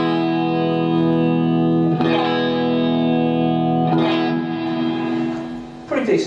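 A sustained electric guitar chord, single-coil pickup in second position, rings out through a Blackstar ID series amp, struck three times, each with a splashy, wobbling spring-reverb tail.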